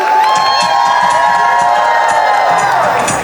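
At a Planet Hollywood all-inclusive resort in Cancún during a Christmas countdown event, a large crowd cheers, whoops and shouts continuously, loud and close, with excited children's voices mixed into the roar.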